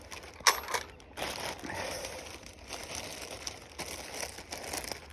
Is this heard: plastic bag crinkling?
yes